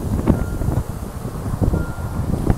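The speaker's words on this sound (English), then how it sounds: "I do apologize for the wind. It is very loud." Loud, gusty outdoor wind buffeting the microphone with a constant rumbling roar and uneven bursts, no other clear sound standing out.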